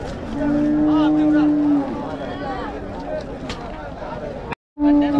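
Cattle at a rain-soaked Uthangarai livestock market moo in long, loud, drawn-out calls, one near and others further off, over someone talking and a crowd murmuring.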